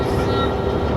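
A train passing in an American truck driving video game, a loud, close, continuous rumble with faint high squealing tones through a short moment.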